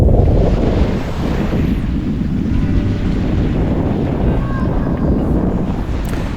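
Strong wind roars and buffets the microphone at 6 Mile Cove, a kitesurfing spot in Nevada, a loud continuous rumble with gusty surges that fills the whole stretch.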